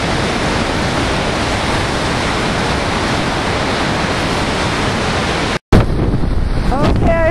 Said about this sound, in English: That wind's going to make it hard to hear.